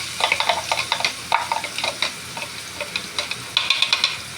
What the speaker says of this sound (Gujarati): રાઈ તો તળાઈ ગઈ છે, તો હવે નાખીશું થોડી હિંગ, લીલા મરચાં